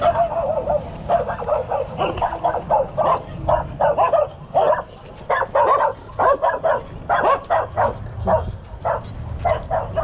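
Several dogs barking repeatedly at a neighborhood near the Makati–Mandaluyong bridge, a steady run of loud, close barks and yips filling the whole stretch.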